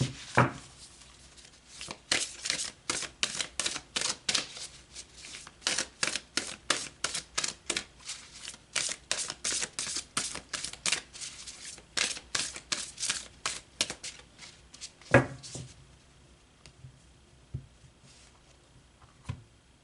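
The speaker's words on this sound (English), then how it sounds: "So let's pull some cards from the angels and see what they want to say." Angel oracle cards being shuffled by hand in a long run of quick, crisp riffling flicks, close and fairly quiet, settling into a few softer taps near the end, with no talk.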